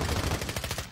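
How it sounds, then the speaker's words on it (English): Rapid gunfire from a Call of Duty: Warzone match, a dense burst of shots rattling continuously through the whole short moment, loud and close with no talk over it. "there's another team shooting at him"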